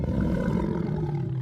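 A lion gives a deep, sustained roar that rumbles loudly and steadily throughout, close and unbroken, with no voices.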